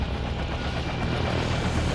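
A desert camo military helicopter sets down on a helipad in an audio drama, a loud steady rotor and engine roar filling the whole stretch with no pause or voices.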